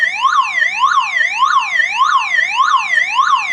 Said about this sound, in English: car's security alarm